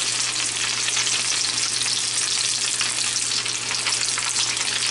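Chicken and potato taquitos fry in a pan of oil, giving a loud, dense, even crackling sizzle that runs unbroken from start to finish.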